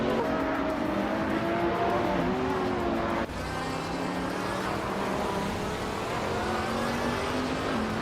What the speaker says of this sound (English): Tugonnet DTV is racing a 2017 Ferrari 812 Superfast